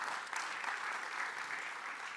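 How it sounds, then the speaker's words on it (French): Conference audience applauding a speaker, a dense, even wash of clapping heard from a moderate distance, steady throughout the brief stretch with no talk over it. "Merci, monsieur de Peretti, on peut vous applaudir."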